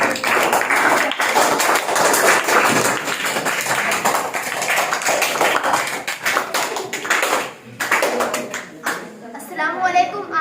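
Audience clapping at a school speech event, where ninth-grade students take turns speaking about Ramadan, sustained and fairly loud with voices mixed in, thinning out toward the end.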